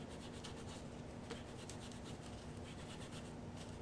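Quick rub-down of a surface before refinishing a skateboard part toward a blasted brass look, a faint, steady, even rubbing hiss throughout with no talking.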